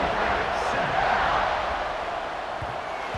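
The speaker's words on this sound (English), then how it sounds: "You think this crowd's going to get loud when their defense comes on the field?" Steady broadband roar of a stadium crowd in EA Sports College Football 26, a continuous wash of cheering and murmur holding at an even, fairly loud level throughout with no clear individual voices.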